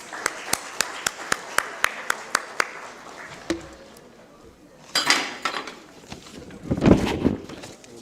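Applause from an audience at a national HR conclave, welcoming a guest onto the stage at a university event. A run of sharp, evenly spaced claps is followed by a louder, mixed burst of clapping and crowd noise.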